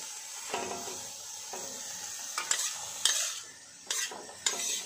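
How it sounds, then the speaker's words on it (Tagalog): Pechay stalks, the leafless parts first, drop into a hot pan with crushed tomato and are stirred, giving a steady frying hiss broken by several sharp scraping strokes of the spatula against the pan. "Pwede na natin ilagay yung pechay. Iuna natin yung walang dahon."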